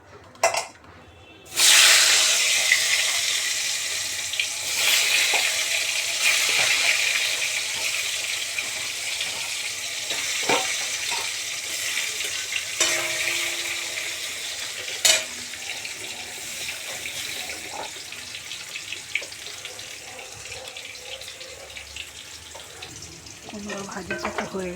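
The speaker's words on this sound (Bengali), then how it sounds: "এবার কুমড়ো ভাজবো।" Pumpkin frying in a pan, a continuous loud sizzle with occasional clinks of a spatula or utensil against the pan, heard up close with no talking.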